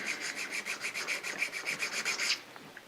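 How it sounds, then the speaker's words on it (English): A carborundum stone rubs back and forth across a burr on a metal machinist vise in a steady run of about fifteen quick, close, scraping strokes that stop abruptly. "I'm just taking a carborundum stone and just, ooh, this definitely has a burr on it."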